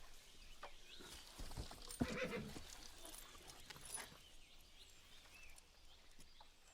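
A horse neighs briefly amid faint rustling and distant outdoor ambience, with a few soft hoof-like thuds.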